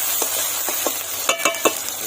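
Ginger garlic paste and spices fry in a pan for a meat dish, a bright steady sizzle broken by several short scraping stirs of a spoon, close and clear with no talk.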